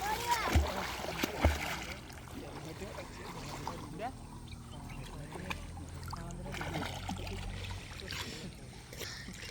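A dog paddles and splashes in a river near a forest at sunset, with a few sharp splashes early on and then softer water movement, fairly faint and distant.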